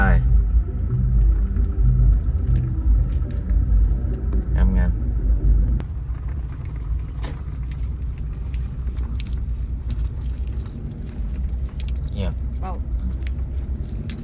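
A car being parked in a Thai town on the way to a night fair, a loud low engine rumble that drops in level partway through, with someone talking over it and a few faint clinks.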